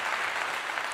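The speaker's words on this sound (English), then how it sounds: "Again, another clap, everybody." Steady applause from a studio audience or group fills the whole second, dense and continuous with no voices over it.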